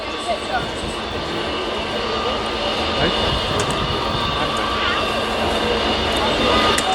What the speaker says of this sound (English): The Typhoons, meanwhile, in the hands of Captain Federico Pedraccia in the case of the Italian Air Force, and Flight Lieutenant Chris Hoyle